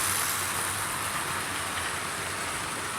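Hornby Class 35 Hymek model diesel locomotive running on track: a continuous close rumbling, clattering whir with hiss, steady and unbroken throughout, with no voices.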